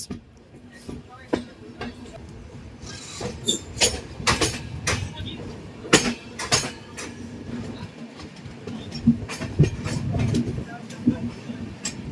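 A Jammu Tawi Express passenger train rattles by with repeated clattering clicks and rumbling, a steady rail noise rising and falling over several seconds.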